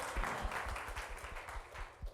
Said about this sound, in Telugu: అందరూ గట్టిగా చప్పట్లు కొట్టి ప్రభు నామమున కనపడదాం.